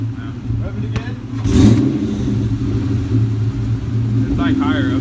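A Ford Mustang GT with an exhaust leak revs once to a loud, brief surge and then settles back into a rumbling idle, with people talking close by over the engine.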